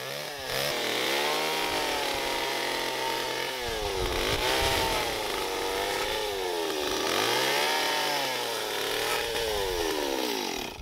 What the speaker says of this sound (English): Chainsaw is ideal.